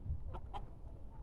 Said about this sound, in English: Look at my chickens in their little house.